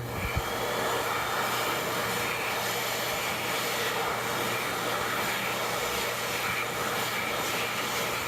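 A hand dryer fitted with the 1.1 nozzle runs at a steady, loud rushing whoosh throughout, with an even airflow roar and no voices.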